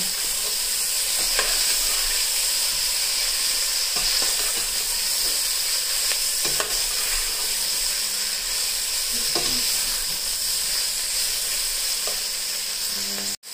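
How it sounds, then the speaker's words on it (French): Guianese calalou being stirred in a frying pot after salt meat is added: a continuous loud sizzle and steamy hiss with scraping of the spoon against the pot throughout, with no voices. "Et je mélange."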